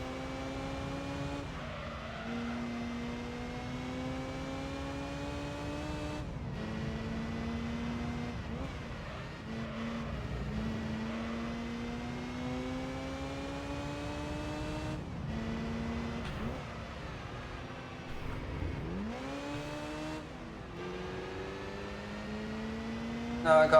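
Race car engine in the Gran Turismo 3 video game, a steady high whine climbing in pitch through each gear, then dropping sharply at several upshifts over roughly twenty seconds, with some talk over it.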